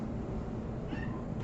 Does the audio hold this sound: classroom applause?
no